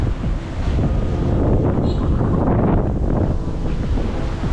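Strong sea wind buffets the microphone over rolling waves on Jomtien Beach in Pattaya during a morning walk, a loud continuous rush with surf washing beneath it and no voices.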